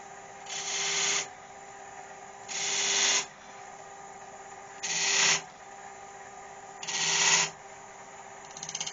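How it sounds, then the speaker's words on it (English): A skew chisel cuts a groove into a spinning turned vase on a wood lathe, four distinct scraping bursts about a second each, separated by the steady hum of the lathe. "What I'm going to do is just mark it with a skew."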